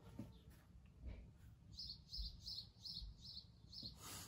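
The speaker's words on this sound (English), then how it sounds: "These birds won't shut up," Small birds chirp outside a house in the early morning, a regular run of quick bright tweets repeating about every half second, moderately close over low room rumble, with no talk.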